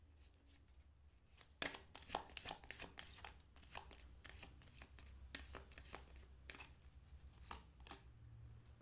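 Tarot cards are shuffled by hand in a quiet room, with repeated crisp riffling bursts and soft card slaps in an irregular rhythm, close and fairly faint.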